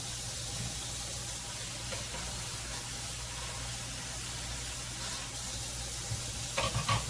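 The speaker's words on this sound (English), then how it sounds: "scraps down the disposal." Steady broadband whirring hiss of a kitchen garbage disposal grinding food scraps continuously, with a low hum underneath and a few clinks near the end.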